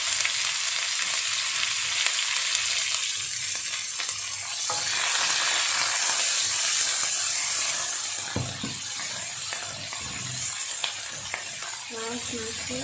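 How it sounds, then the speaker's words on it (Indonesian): Sliced spices such as galangal and lemongrass frying in a pan, a loud steady sizzle with scraping stirs throughout and someone speaking briefly near the end. "Kita masukkan semua bumbu yang telah diiris tadi."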